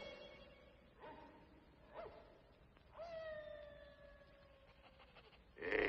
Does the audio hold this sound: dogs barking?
yes